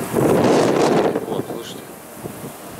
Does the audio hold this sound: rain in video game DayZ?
no